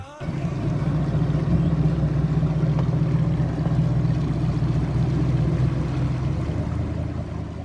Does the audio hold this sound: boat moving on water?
yes